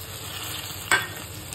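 Tomatoes are stirred into masala frying in oil for aloo gobi, a steady close sizzle broken by one sharp scrape or clatter of the spoon midway, with no voices.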